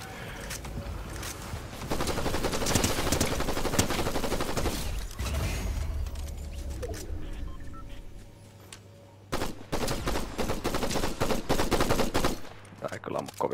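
Rapid bursts of gunfire in a Fortnite Zero Build solo match, loud and sustained, with a brief lull before more volleys of shots rattle in quick succession.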